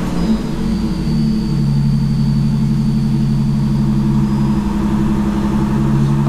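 A Bentley's twin-turbo W12 engine with a titanium exhaust starts and settles into a deep, steady idle close by, a loud low rumble with a slight rise in revs partway through and no talking.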